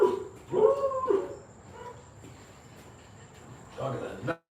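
A neighbour's dog gives several loud yelping barks and whimpers close by, then goes quiet before a final short burst of yips.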